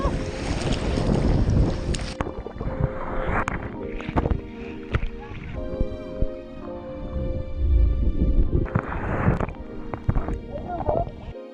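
Paddling through rough, churning breaking waves off Hawaii, with loud rushing water and wind buffeting the microphone, splashy surges rising and falling throughout, and voices calling out at moments.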